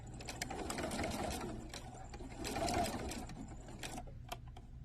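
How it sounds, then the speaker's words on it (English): Sewing machine running steadily, stitching bias tape a sixteenth of an inch from the fabric edge; a close, continuous rapid mechanical whir that swells slightly midway and stops near the end, with faint clicks after. "So I'll go to the sewing machine and I will be stitching at a 1/16 of an inch from the edge"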